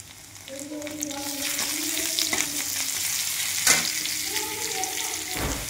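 Garlic paste fries in hot oil with onion and dried red chili in a pan, a dense steady sizzle and crackle close by, with stirring scrapes and faint tonal background sounds throughout.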